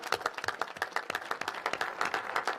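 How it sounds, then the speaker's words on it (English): Audience applause at a National Space Council meeting comes as a short burst of scattered, fairly close hand claps from a modest crowd, with no speech over it. "So give yourselves a round of applause."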